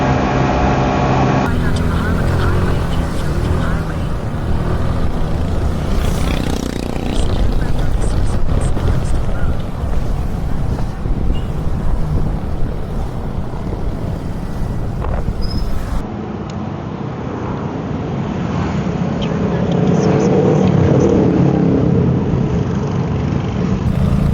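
A motorcycle rides along a bypass road near Sorsogon City in the Philippines, its engine and rushing wind forming a loud, constant roar that swells and eases slightly over the stretch.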